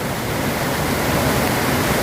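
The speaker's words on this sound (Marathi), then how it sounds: "भरपूर पाणी जात आहे बघा मुसळधार पाऊस झालेला आहे" A steady, loud roar of floodwater rushing over a bridge after torrential rain, constant and broadband like a torrent pouring over a spillway.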